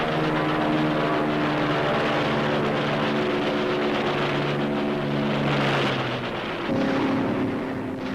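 Droning World War II warplane engines, 1945, roar steadily with sustained tones that waver and shift in pitch, loud and close, with no voices.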